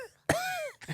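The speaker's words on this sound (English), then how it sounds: "This cake just coughed." A single throaty cough-like sound, close and fairly loud, bursts out and holds briefly before a softer second sound follows; no speech is heard.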